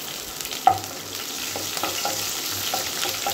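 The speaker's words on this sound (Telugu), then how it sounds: "ఇప్పుడు 2 పచ్చిమిరపకాయలు వేసాను. పచ్చిమిరపకాయలు కొంచెం అటు ఇటు కలిపాక" Two green chillies fry in a pan for a sweet potato curry, giving a steady sizzle with a sharp clack near the start, then intermittent stirring scrapes at a moderate, close level.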